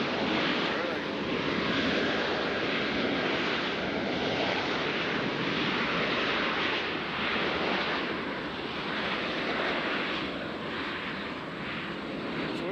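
An American airliner landing at Nashville airport, a distant, steady broadband jet roar with wind noise, continuous at moderate loudness, with someone talking over it.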